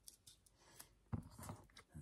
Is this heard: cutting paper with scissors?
yes